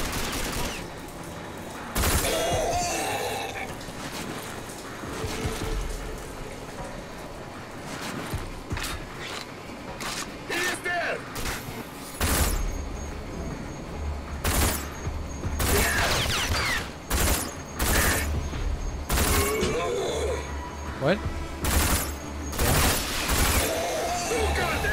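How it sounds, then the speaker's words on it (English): Gunfire in the video game RAGE as shots hit the side of a box: repeated loud bursts and single cracks, close and punchy, scattered through a stretch of low background rumble. "shooting the side of a box"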